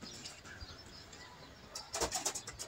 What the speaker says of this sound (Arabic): في فرد زغلول قام يا رجاله، الزغلول الاسترالي قام يا رجاله.